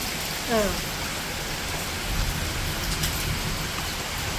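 Dense, heavy rain with hail roars steadily, with a brief voice near the start and faint rumbles underneath; no distinct hailstone impacts stand out.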